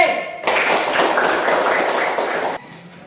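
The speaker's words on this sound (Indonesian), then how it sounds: "beri tepuk tangan kepada kelompok C" A group bursts into applause, dense clapping that starts abruptly, holds steady for about two seconds, then cuts off.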